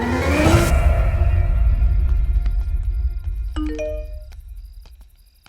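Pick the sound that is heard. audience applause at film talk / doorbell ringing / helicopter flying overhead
doorbell ringing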